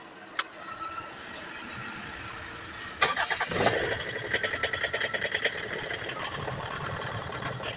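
A Mitsubishi Strada pickup engine fitted with a new starter sits quiet, then about halfway through cranks with a sharp jolt and catches, settling into a loud, close, rapidly pulsing running idle.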